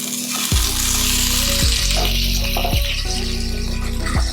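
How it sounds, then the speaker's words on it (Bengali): Fresh chhana sizzling in a little ghee over medium heat, a steady loud frying hiss with periodic low rattling knocks of the pan or stirring. "আঁচটা একদম মিডিয়াম করে ছানাটাকে ভাজতে হবে।"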